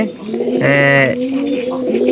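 Caged pigeons coo in a loft, with one bird giving a clear, near, rolling coo in the middle and softer cooing from others around it. No voices are heard.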